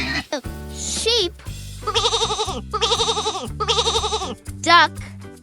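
A sheep bleats in three wavering, quavering calls of similar length over background music, framed by short voiced phrases.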